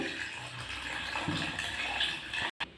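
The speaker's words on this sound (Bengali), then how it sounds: "এবার আমি এর মধ্যে জল দিয়ে দেবো" Water poured into a bowl of scraped mango pulp for a mango drink, a steady close splashing, gurgling flow that cuts off briefly near the end.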